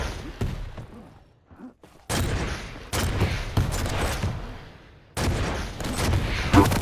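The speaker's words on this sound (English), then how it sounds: "Nice rockets." Rocket launcher fire and explosions in the arena shooter Quake Champions during a duel match, several loud blasts in separate bursts with short gaps between them.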